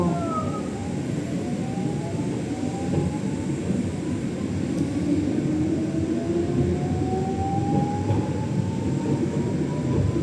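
Pink Line monorail train pulling out of a station, a steady loud rumble and rolling hum with rising motor whine throughout, heard from inside the car.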